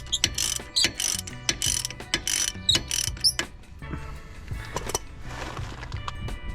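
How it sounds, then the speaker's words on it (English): Hand ratchet with a 21mm socket tightening the front brake caliper cradle on a VW Crafter CR35 van, giving bursts of quick metallic clicks at close range, repeated in short runs with brief pauses and tool handling between. "Now I'm just tightening up the sort of caliper cradle here, with this 21mm."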